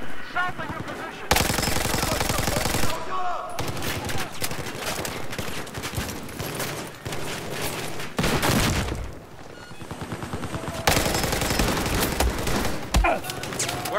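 Sustained hostile machine gun fire in Battlefield 4, loud rapid bursts rattling almost continuously with brief pauses, mixed with distant explosions and occasional voices in the background.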